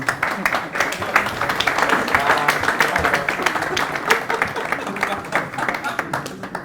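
Audience applause at an evening networking event for an award ceremony, sustained dense clapping close by throughout.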